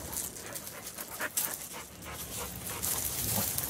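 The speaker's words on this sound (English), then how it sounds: "Yeah, Magic, there's another dog that would much rather play with you." Dogs playing together, close rapid panting and snuffling with scuffling movement, moderately quiet and continuous.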